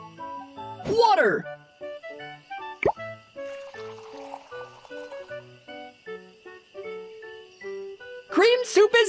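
Cartoon water poured into a pot of cream soup: a brief liquid splash with a soft drip-like plop, set against light background music, with childlike cartoon voices chirping before and after.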